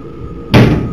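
A door swings open partway through, a sudden broad thud-like burst of noise that stays loud to the end after a quieter room stretch.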